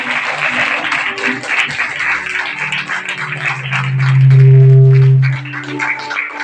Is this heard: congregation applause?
yes